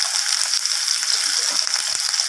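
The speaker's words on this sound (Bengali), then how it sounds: "তো আলু আর পেঁপেটাকে তেলের সাথে একটু নাড়িয়ে চাড়িয়ে নিচ্ছি আমি।" Diced potato and green papaya stirred in hot oil in a pan for a vegetarian Bengali curry, a steady bright sizzle with soft scraping stir sounds throughout, no voices.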